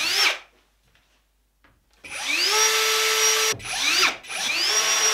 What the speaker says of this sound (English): just a few here and there are gonna screw in place